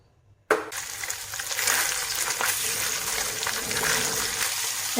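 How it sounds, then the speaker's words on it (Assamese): Fish frying in a hot pan, a sudden loud sizzle that starts abruptly and then holds as a steady, close crackling hiss. "আধা ভাজি লৈছোঁ মাছ, নমাই দিলোঁ।"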